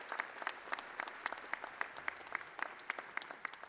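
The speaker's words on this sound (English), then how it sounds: "let's give a round of applause" An audience applauds at a university commencement ceremony with steady, sustained clapping from many hands, fairly faint and distant in a large hall, with no speech over it.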